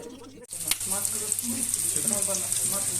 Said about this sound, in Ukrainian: зараз ми жаримо котлети